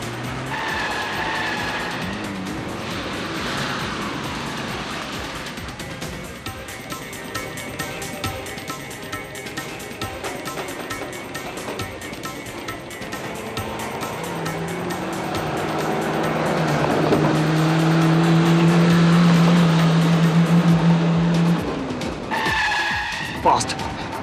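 A car speeds and skids with squealing tires, a loud engine swelling toward the end, while voices speak urgently over the rushing noise.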